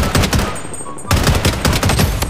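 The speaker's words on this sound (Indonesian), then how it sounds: "Wih, ada lagi tembakan, guys." Automatic gunfire in the Blood Strike mobile game, rapid repeated shots in loud bursts with a short pause midway before the firing resumes.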